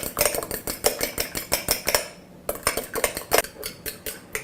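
An egg mixture with chopped green chili, salt and pepper is beaten briskly with a utensil in a bowl, giving rapid rhythmic clinks that pause briefly midway, then resume, close and without talk.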